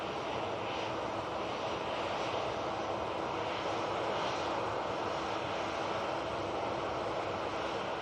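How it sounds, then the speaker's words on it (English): A Jet2 Boeing 737 arriving at Manchester Airport, its engines a steady, loud broadband roar that holds throughout, with no voices over it. "Next in should be the Jet2 737 from Rius."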